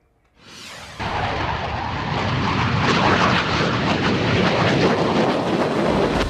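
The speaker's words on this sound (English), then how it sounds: "That's the sound of the first air show in Myrtle Beach in 20 years." A loud, roaring jet engine swells in after a brief quiet start and holds as a powerful, rumbling rush of an aircraft passing close overhead at an air show in Myrtle Beach.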